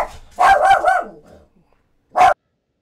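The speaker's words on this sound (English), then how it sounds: "This dog is very excited." Excited dog in a PS5 puzzle game barking close and loud, a quick run of three or four barks, a pause, then one more sharp bark.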